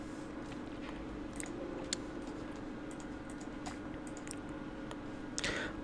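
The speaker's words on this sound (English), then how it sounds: "press Windows and R button, then type gpedit.msc and hit the enter button" Light, irregular clicks of keys typed on a computer keyboard, faint and close against a steady low background hum, with no talk.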